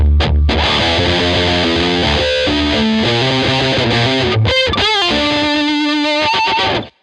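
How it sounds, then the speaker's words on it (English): Heavily distorted electric guitar playing a chorus riff, loud and thick with chugging chords and sustained bent notes, ringing alone before cutting off abruptly at the end. "huge distortion sound"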